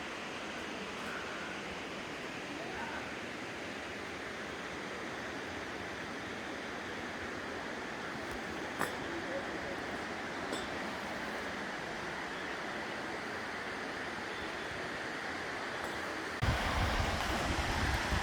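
Steady, dense rushing roar of a waterfall in Karijini National Park, continuous and fairly loud throughout, with a brief louder burst near the end and no talking.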